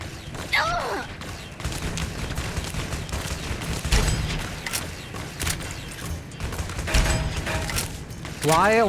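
Repeated gunfire in Fallout: New Vegas, loud rattling shots and mechanical clatter across the scene, with a player's voice speaking at moments over the shooting.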